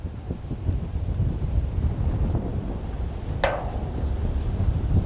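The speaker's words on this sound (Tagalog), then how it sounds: "Ayan o, lakas ng hangin." Strong wind roars across an outdoor viewing deck in Montalban, Rizal, buffeting the microphone in a loud, continuous rumble, with one short sharp whoosh partway through.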